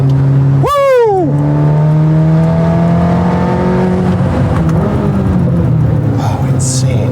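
A Corvette C8 ZR1 on Cup 2R tyres accelerates hard, its engine note climbing and snapping through a quick upshift. It then settles into a loud sustained high-revving drone with people talking over it in the cabin.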